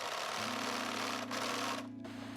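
Sewing machine stitching bikini fabric in a steady, fast mechanical whir with a regular needle rhythm. It runs close and continuous, then slows and stops near the end.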